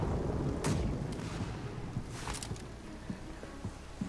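Booming ship cannon shots in the game Blackwake, a heavy blast early on and another cluster midway, over a dense rumbling naval battle din.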